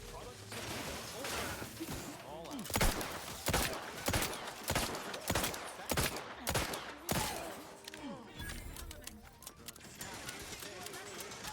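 Rapid bursts of turret gunfire in the video game Outer Worlds 2, loud, close and broken into repeated sharp volleys, with someone talking over the shooting.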